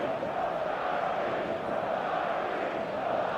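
A stadium crowd in the video game eFootball 2025 gives off a continuous roar of massed voices, steady and enveloping, with no single voice standing out.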